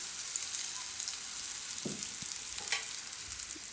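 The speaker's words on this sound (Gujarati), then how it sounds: "તો આને આપણે ગેસ ધીમો કરીને થોડીક વાર પાકવા દઈશું." Raw banana curry cooking in a pan over a low gas flame, giving a soft, steady sizzle with a few faint clinks and stirring touches. The sound is quiet and close, and no one speaks.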